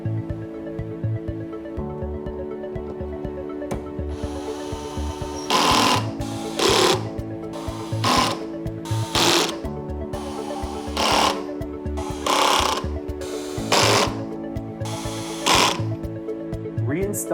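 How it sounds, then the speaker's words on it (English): Small screwdriver or power driver tightening cross-head screws on a Bluetti AC200MAX power station mainboard, with a series of repeated loud buzzing bursts roughly once a second over a steady background hum. "Tighten up all the cross screws diagonally."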